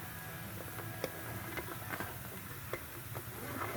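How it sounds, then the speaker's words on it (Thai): Vegetables stir-frying in a pan over garlic and onion for a vegetable-and-herb spaghetti sauce, a steady soft sizzle with scattered light clicks of a utensil stirring. "พอกระเทียมแล้วก็หัวหอมยุบตัวแล้วผมก็จะเอา ผักลงไปผัดนะคะ"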